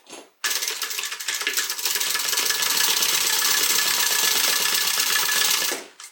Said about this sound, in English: I'm going to do 2 lines of stitching here.